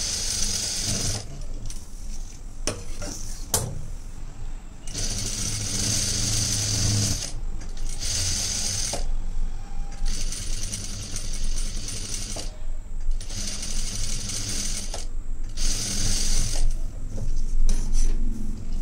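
Sewing machine stitching a boat neck blouse, loud bursts of fast rhythmic whirring stitches alternating with short quiet pauses, close and alone without talk.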